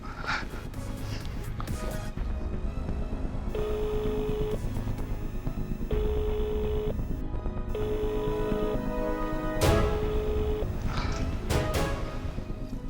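Repeated ringback tones of an unanswered phone call, several evenly spaced beeps over a steady background hum and faint rustling, with no talking.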